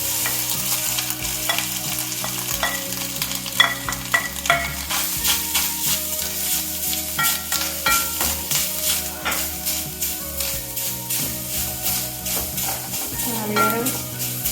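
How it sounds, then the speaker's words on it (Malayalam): Grated coconut stirred and dry-roasted in a pan for a Kerala mackerel dish, with steady scraping and stirring strokes and a soft continuous sizzle throughout, with faint background music. "അപ്പം നമുക്ക് ആ തേങ്ങ ഒന്ന് വറുത്തെടുക്കാം."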